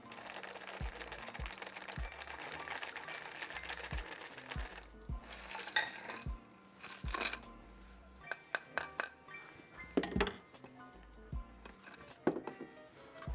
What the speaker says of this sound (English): So you want to double strain this one because you don't want any kind of ice chunks floating in there.